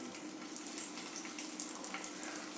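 Potatoes frying in mustard oil for dum aloo, a steady bright hiss and crackle that continues evenly throughout at moderate level, with no talking.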